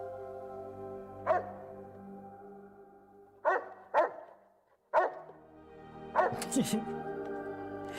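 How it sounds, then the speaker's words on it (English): Cyborg dog puppies in Fallout New Vegas bark in short separate bursts, four or five yips and barks spaced over several seconds, with a low game hum and music between them. "Roxy had puppies, cyborg dog puppies."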